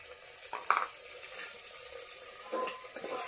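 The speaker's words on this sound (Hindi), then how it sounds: "गोभी को हम 2-3 मिनट भून लेंगे।" Cauliflower fries in a pan with ginger and garlic for khichdi while being stirred. A soft steady sizzle is broken by a few scraping clinks up close, and no one talks.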